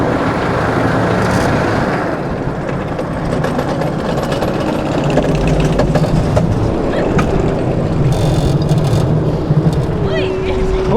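Busch Gardens' Sand Serpent roller coaster hauling up its lift hill, a loud steady mechanical rumble and rattle with clanking and ride noise throughout, voices faintly mixed in.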